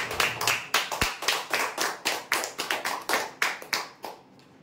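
A crowd at a prize-draw event claps vigorously, with a steady run of dense, loud applause bursts that fade out near the end; no voices are heard over it.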